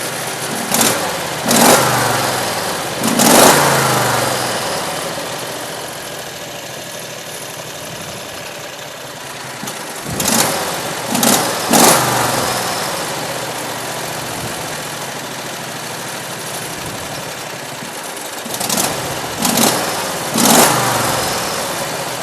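A Predator 670cc engine fitted with an aftermarket carburetor with a large float bowl runs steadily at idle, broken by several sharp revs in bursts, loud and close with no talk.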